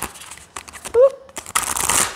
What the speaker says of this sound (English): what I like to do with bigger decks is shuffle them on the side